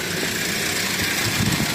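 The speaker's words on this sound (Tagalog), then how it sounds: "pa-start muna natin itong sasakyan" A 2024 Mitsubishi L200 with a 2.4-litre diesel engine runs at idle, a steady, dense rumble with a constant hiss on top, close and even with no pauses.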